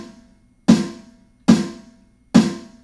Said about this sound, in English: This guy here, the snare drum.